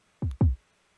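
A beat's kick drum, turned down in the mix, hits twice in quick succession with deep, rounded thumps that fall in pitch, then silence.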